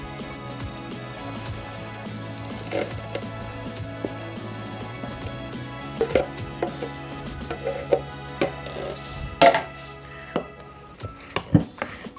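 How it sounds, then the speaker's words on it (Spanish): A berry and cream cheese ice cream mixture is whisked by hand in a bowl. Faint, irregular scraping and tapping strokes quicken and grow louder toward the end over a low background hum. "Así como le estoy batiendo yo ahorita, así deben de batir las personas que no tienen batidora."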